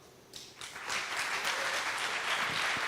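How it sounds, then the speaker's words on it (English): An audience at a contest opening ceremony breaks into applause that swells within the first second and continues as dense, steady clapping. "a big round of applause for them"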